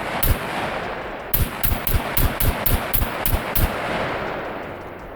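Unsuppressed semi-automatic rifle shots in SCUM: one crack, a pause, then a steady run of about nine evenly spaced single shots, loud and close, followed by a fading tail.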